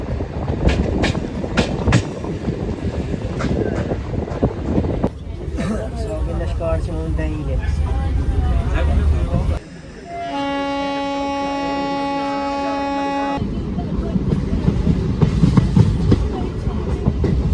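Electric passenger train running on the Kashmir railway, heard from inside a carriage: steady rumbling and rhythmic wheel clatter, a brief lull partway through, and someone talking over it.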